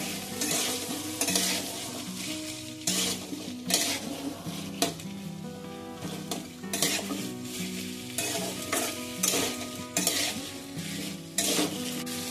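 Ivy gourd (kundri) and two medium potatoes hit a pan, frying with a steady sizzle while a utensil stirs and scrapes, metal clinks and clatters recurring through the whole stretch, close and fairly loud, with no talk.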